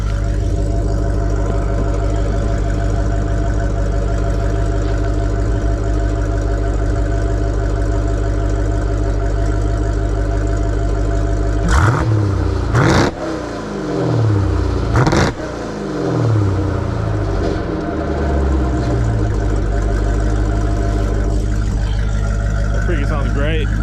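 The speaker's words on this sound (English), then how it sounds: "So I want you guys to hear its exhaust. It sounds amazing just with the mid pipes." Jeep Grand Cherokee Trackhawk Redeye, tuned to 797 hp and running mid pipes, idles with a deep, steady exhaust burble, then barks through two sharp revs before settling back to a loud, close idle.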